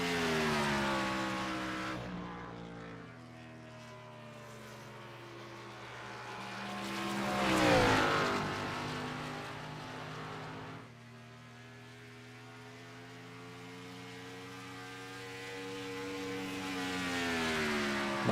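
A Gen4 stock car in a sim racing league session runs laps, its engine a steady buzzing drone that rises and falls in pitch with throttle and gearing, swelling loudest as it passes through a corner and again near the end.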